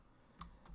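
Two quick, faint keystrokes on a computer keyboard while entering JavaScript code, close and isolated, spaced a fraction of a second apart.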